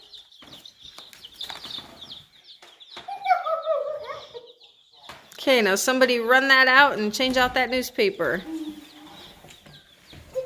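Newly arrived baby chickens give a steady run of thin, high peeps, heard clearly at first and then partly buried as people talk loudly over them.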